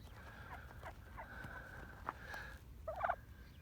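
Turkeys gobble outdoors in short bursts, a few rising calls and then a louder, closer gobble near the end, over a low steady background rumble.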